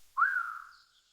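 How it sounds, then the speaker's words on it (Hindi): A cartoon bulbul gives a single clear whistled call that sweeps up and then slowly falls away, sounding alone against silence. "तभी अचानक उसे बुलबुल की आवाज सुनाई दी।"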